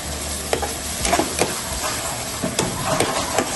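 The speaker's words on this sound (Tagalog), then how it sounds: "Tapos, pag medyo brown na, i-add natin yung sibuyas." Browning onions sizzle and fry in a pan while being stirred, giving a steady hiss broken by several soft scraping stir strokes, close and moderately loud.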